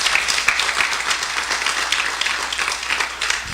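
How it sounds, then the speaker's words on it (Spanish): Church congregation applause during a sermon, a loud, sustained, even patter of many hands clapping together that fills the room. "Denle un aplauso al Señor, mi hermano."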